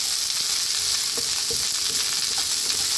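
Carrots and mixed vegetables with canned tuna stir-fry in a hot pan, giving a continuous close hiss of frying with scattered soft scrapes and taps of the spatula, and nobody talking.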